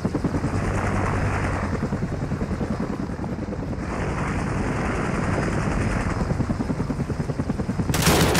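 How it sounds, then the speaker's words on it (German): Helicopter in Call of Duty Modern Warfare, with a loud, close rotor thump pulsing steadily throughout and game noise and gunfire mixed in. "Der Heli hat mich angesehen."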